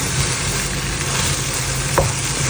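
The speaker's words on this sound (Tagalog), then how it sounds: "Haluin lang natin hanggang ma-mix yung ating butter" Butter being stirred into a cassava mixture in a pan for suman, with a steady soft sizzle and scraping of the spoon throughout and a single clearer clink near the end.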